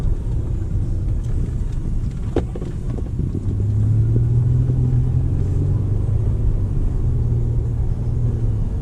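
Mercedes C300 driving along a road after an axle bearing replacement, giving a steady low engine and road rumble that stays loud and continuous throughout, with a brief thump near the middle.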